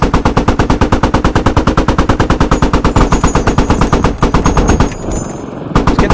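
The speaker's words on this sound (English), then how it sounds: "You want him to take shots?" Automatic gunfire in the video game Squad rattles in long, loud, rapid bursts, near and continuous for several seconds, with a short pause before firing resumes, no talk.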